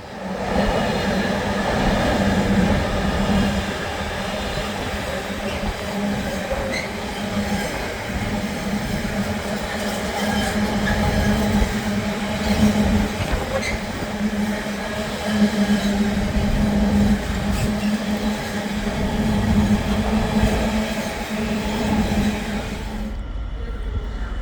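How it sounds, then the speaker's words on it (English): A GBRF Class 66 diesel locomotive hauls a long rake of container freight wagons past, a loud sustained engine drone with rolling wheel and wagon rumble that cuts off abruptly at the end. "66781 GBRF named Darius Cheskin, pulling quite a large rake of containers"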